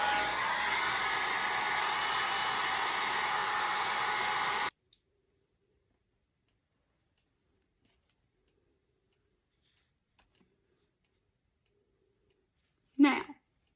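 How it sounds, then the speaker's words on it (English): Hair dryer blowing on the bangs of a long wig, a loud steady whir for about four and a half seconds that cuts off abruptly, followed by near silence and a brief voice near the end. "I'm going to hit it with my hair dryer again."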